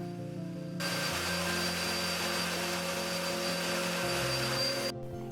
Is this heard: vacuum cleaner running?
yes